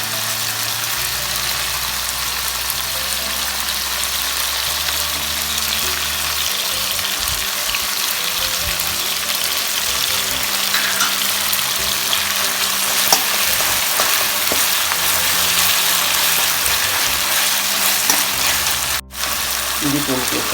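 Chopped tomatoes and ginger-garlic paste sautéing in a pan for pepper chicken, a loud continuous frying hiss with occasional stirring scrapes, steady throughout with a brief dropout near the end.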